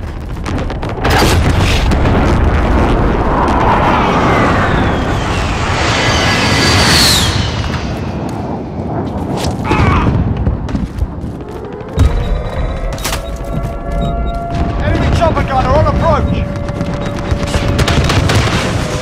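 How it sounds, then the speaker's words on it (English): A precision airstrike in a video game, heard as a dense, loud barrage of booming explosions and crackling blasts that rumble continuously, with scattered sharper bangs and whining tones near the end. "Be advised, friendly precision airstrike inbound."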